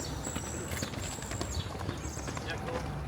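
Racehorses breezing along the inside rail of the Keeneland track in Kentucky, a faint distant drumming of hooves beneath steady outdoor noise and nearby talk.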